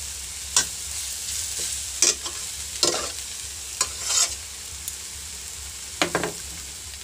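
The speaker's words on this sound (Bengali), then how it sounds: "আর এখানে ওই শাক চচ্চড়িটা এখন করে নিচ্ছি" Leafy greens for shak chorchori are being stir-fried in a pan, with a steady sizzle punctuated by sharp scraping and clanking of the spatula every second or so, close and without talk.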